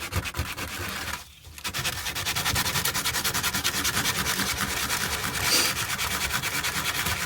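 Steady, rapid scratchy rubbing as a plastic-welded airsoft rifle or pistol part is sanded down by hand, continuous and close, with one brief pause early on.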